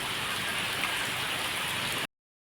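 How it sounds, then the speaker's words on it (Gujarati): Steady rain falling, a dense even hiss of drops pattering on surfaces that runs continuously and then cuts off abruptly near the end. "વરસાદ ચાલુ થયો"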